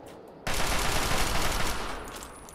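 Gunfire in Fallout 3, a sudden loud burst of rapid shots that starts abruptly and holds steady for about two seconds before easing off.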